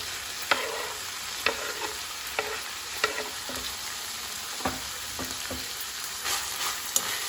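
Finely chopped fenugreek leaves roast with softened green peas in a pan, a light steady sizzle punctuated by regular spatula scrapes and taps, close and clear with no voices.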